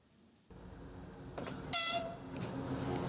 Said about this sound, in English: A train said to be carrying Russian military vehicles arrives in Belarus.